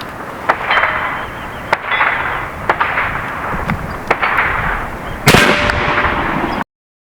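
Repeated sharp cracks of an AEA Zeus .72 cal air rifle firing at a concrete house foundation block, about seven loud impulsive shots at irregular intervals over steady background noise, the last followed by a brief ringing whine.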